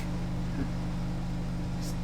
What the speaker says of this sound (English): Consider it atmospheric engine noise.